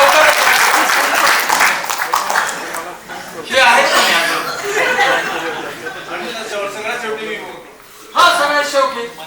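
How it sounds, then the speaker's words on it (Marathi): An audience at a book inauguration event bursts into loud applause, with waves of clapping that swell, fade and return, mixed with chatter and a few chuckles. "एकच राहिलेले, म्हणून जोरदार टाळ्या."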